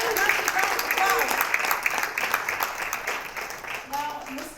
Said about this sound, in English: Put your hands together, everyone, in a massive round